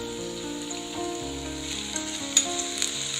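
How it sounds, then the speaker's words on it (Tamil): Onions and tomatoes sauté in a pan for vegetable salna, a steady close sizzle with soft hissing throughout and a few small pops, no talking. "சால்னாக்கு வெங்காயம் தக்காளி எல்லாம் நல்லா வதங்கி வரணும்."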